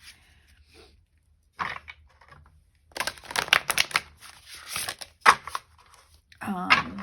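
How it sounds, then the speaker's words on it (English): A deck of astrology cards is shuffled by hand during a pick-a-card tarot reading, giving quick papery riffles and slaps in several bursts, close and fairly loud, with brief quiet gaps between them. "I'm just shuffling these astrology cards to see."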